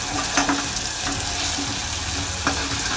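Chopped onion frying in oil for aloo bonda rasa, a loud continuous sizzle broken by several sharp spatula scrapes against the pan, with no voices.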